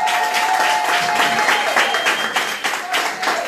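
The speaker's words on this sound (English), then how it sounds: "Give him a round of applause for me" An audience at a political party youth conference applauds a guest speaker, a continuous wash of many hands clapping with crowd murmur and a few faint voices beneath, loud and sustained.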